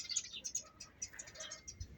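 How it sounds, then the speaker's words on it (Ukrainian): Sparrows chirp in a garden, a quick run of faint, high, overlapping tweets from a little distance. "кричать горобці"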